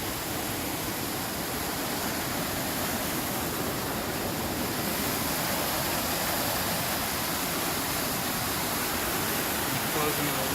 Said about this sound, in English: I'm on a bridge, and the water is rushing.